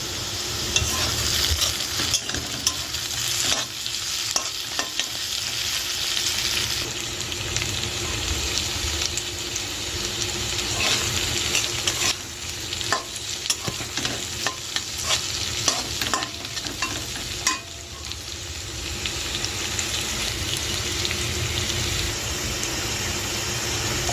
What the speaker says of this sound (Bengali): আমার এখানে বরবটি কড়াই আলু ভাজা হচ্ছে রাত্রে রুটি দিয়ে খাওয়ার জন্য।